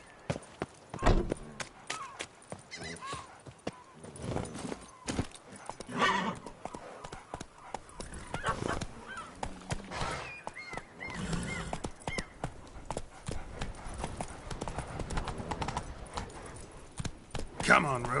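Horse hooves clip-clop steadily on the ground as a mount trots through the open world in The Witcher 3: Blood and Wine, with occasional whinnies and game ambience, close and continuous under light talk.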